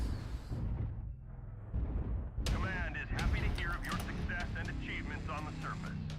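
Autocannon fire and explosions in the mech combat game MechWarrior Online: dense, overlapping bursts and booms that rumble on steadily, with louder blasts and crackling clustered in the second half.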